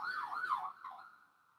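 A siren, fitting an ambulance, wails in a fluctuating rising and falling tone, fairly faint and fading as it passes, with no other sound around it.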